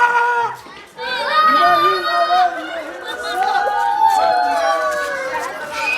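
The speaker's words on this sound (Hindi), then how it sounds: "कितनी भीड़ है इनके पीछे" A dense crowd of people chatters just behind the camera, with many overlapping adult and children's voices forming a steady, fairly loud hubbub throughout.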